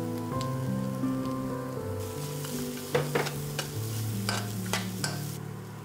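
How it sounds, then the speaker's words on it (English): A blended Thai chili jam mixture for nam prik pao dry-roasts in a pan over medium heat, giving a soft sizzle and scraping stir sounds with a few sharper clacks, under a steady background music bed. "In a dry pan on medium heat, dry roast the mixture we just blended."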